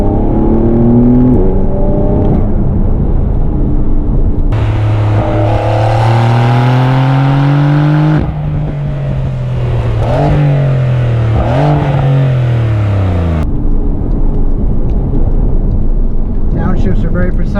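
Porsche 992-generation 911 with PDK transmission accelerating hard, engine note rising and falling through quick rev-matched downshifts, loud and close with continuous voice talking over it.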